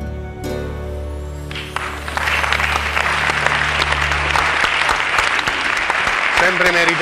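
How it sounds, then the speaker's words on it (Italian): A concert audience at a 25 April event breaks into applause as a sustained musical tone fades. The clapping swells after a couple of seconds into loud, dense, continuous applause, with brief voices near the end. "sempre meritatissimi gli applausi"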